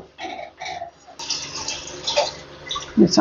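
Water is poured into a cooked spice masala in a pan for Bengali aam shol with raw mango, making a sudden rushing splash that bubbles and hisses unevenly, ending in a few louder gurgles.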